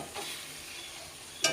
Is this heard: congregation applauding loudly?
no